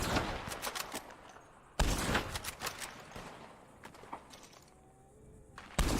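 Rapid bursts of gunfire in the online Western video game Red Dead Online, with loud clustered volleys of shots separated by quieter gaps holding scattered distant pops.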